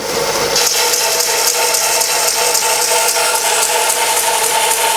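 A double belt sander runs loud and steady while a ring is pressed against the belt, giving a continuous abrasive whir with a faint rattle throughout.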